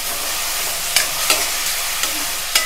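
Chopped onions fry in a pan, a steady close hiss of sizzling oil with a few soft spoon taps at intervals, no voices present.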